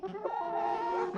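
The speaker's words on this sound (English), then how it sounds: "You can cluck on me all you want, girls" Hens cluck and murmur continuously inside a farm chicken coop, a close, steady chorus of overlapping calls.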